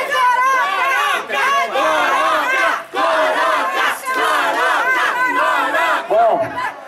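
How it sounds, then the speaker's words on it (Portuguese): A large crowd at a celebration in Itaquera roars and shouts together in sustained waves, a dense mass of voices cheering continuously with brief dips between surges. "Galera, uma salva de palmas pro nosso amigo."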